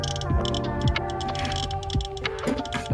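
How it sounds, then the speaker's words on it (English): Radiacode 102 radiation detector clicking rapidly beside blue apatite, a steady stream of sharp close ticks with no voices. "As you can hear by the clicking, it's gotten quite angry."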